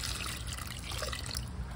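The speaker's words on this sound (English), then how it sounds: "let's do a little bit of water right there." Water poured onto a potted houseplant, a steady close trickle and splash into soil lasting about two seconds, with no talking over it.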